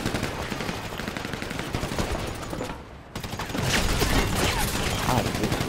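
Dense, sustained gunfire with repeated blasts in a GTA 5 Online crew battle, shotgun shots mixed into a continuous loud barrage with a brief lull midway before it resumes heavier.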